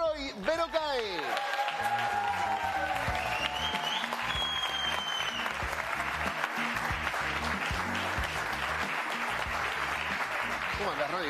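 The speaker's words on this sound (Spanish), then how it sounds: "Les quiero pedir un fortísimo aplauso" Sustained applause from an audience fills the space, with steady clapping throughout and a voice speaking over it near the start.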